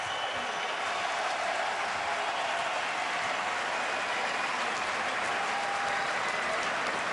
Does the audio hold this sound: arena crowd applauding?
yes